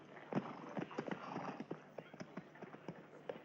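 Horse hooves clip-clop in a Wild West frontier setting, a quick, uneven run of soft clopping steps at moderate distance, fairly faint and continuous throughout, with no talking.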